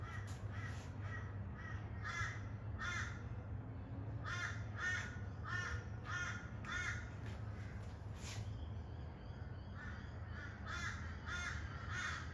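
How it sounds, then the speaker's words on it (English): Crows cawing outdoors: repeated harsh caws, some in quick pairs and runs, call back and forth at moderate distance over a constant low rumble. "We'll just listen to the crows"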